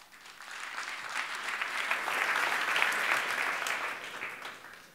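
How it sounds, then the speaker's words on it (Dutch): An audience at a Dutch design lecture breaks into applause for the first speaker. The clapping swells to a full, even peak midway and then fades toward the end, with no voices over it. "Graag een grote applaus voor onze eerste spreker, Renny Raamakers."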